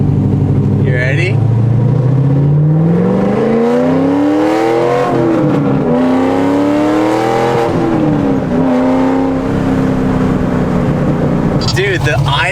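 A Corvette Z06 with straight-piped exhaust rumbles at a loud, close idle, then revs up and down in several rising and falling sweeps, with voices talking over it.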